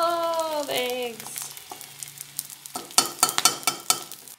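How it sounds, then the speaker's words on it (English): Eggs frying in a pan at home, a close crackling sizzle with sharp spits and pops that follows a brief sung or hummed voice at the start. "Frying some eggs for me and Elnathan."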